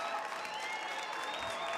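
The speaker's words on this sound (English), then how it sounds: "Oh, the crowd is reeling behind him." Crowd at a track and field meeting in Potchefstroom cheers and applauds steadily, a dense continuous wash of clapping and shouting for the whole moment.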